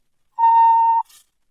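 A single clean electronic tone on the second track of a hypnosis record: one steady mid-pitched beep lasting about two-thirds of a second, alone against silence, followed by a faint brief hiss.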